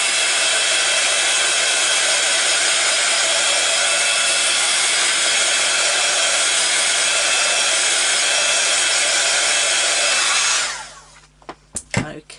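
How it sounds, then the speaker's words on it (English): A heat gun blows steadily and loudly to dry ink on stamped cardstock, a constant rushing roar for about ten seconds before it cuts off, followed by a few light clicks and handling sounds. "Blast with my heat gun just to dry it all off."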